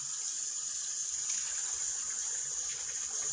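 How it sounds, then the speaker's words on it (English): Water runs steadily from a faucet into a kitchen sink, a constant bright hiss with no talking over it. "I'm going to put a little bit of water in for the sink."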